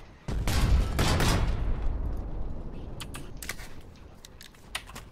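A 120mm artillery bombardment in the game Foxhole, with a heavy booming volley that rolls into a long rumbling decay, followed by scattered sharper distant cracks and impacts, with no talking.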